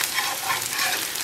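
Bubble and squeak fries in a pan, giving a steady, dense sizzle with soft crackle that holds an even level from start to finish, with no voices.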